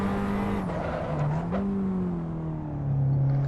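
An Abarth 500 Esseesse engine revs through gear changes in the Assetto Corsa racing game, a strained droning note that dips at each shift and climbs again, close and continuous.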